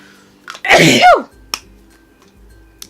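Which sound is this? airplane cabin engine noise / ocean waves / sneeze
sneeze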